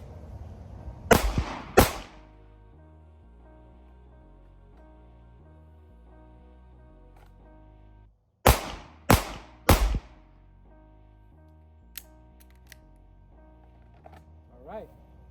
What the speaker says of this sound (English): Shooter will fire 3 rounds in 3 seconds.